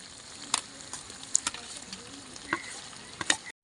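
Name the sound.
chicken kosha frying with fried potatoes added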